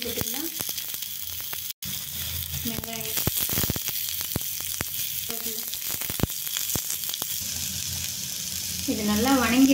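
Garlic and onion frying in hot oil with mustard seeds and cumin for a guava gravy, a steady close sizzle with stirring clatter, briefly cut to silence, while a person talks intermittently throughout.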